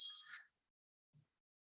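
A single clear, bright bell ding rings out and quickly fades, followed by a faint low knock.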